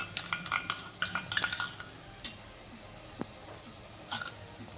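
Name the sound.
stirring carrot halwa with cream in a pan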